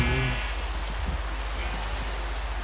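Steady, dense rain pours down in a video game, a loud continuous hiss of drops with faint game tones underneath.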